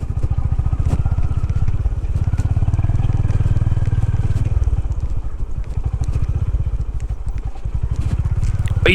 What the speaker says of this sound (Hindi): देखते हैं आगे लेके जाता हूँ थोड़ा नदी तक